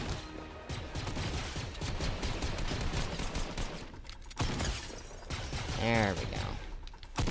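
Gunfire from a sniper rifle in the video game Fortnite cracks out in several shots amid game noise, with a player talking over the action.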